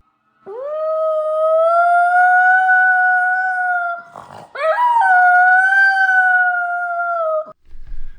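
A dog howls loudly and close by in two long sustained wails. The first holds steady, then after a brief break a second howl rises and carries on before cutting off, with no talking.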